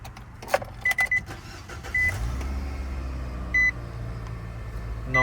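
A 2019 Nissan NV van starts and settles into a steady low idle, with a few short electronic beeps and clicks over the engine hum; no one speaks.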